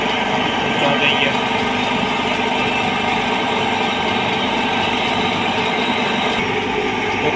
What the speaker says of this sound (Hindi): अभी मोटर चल गई है